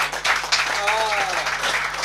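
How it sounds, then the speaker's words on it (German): A small audience at a Cologne talk show event claps in introduction of a guest, Peter Paschek, a brief, fairly close burst of applause with a voice talking over it. "Peter Paschek, bitte klatschen Sie jetzt oder nie wieder."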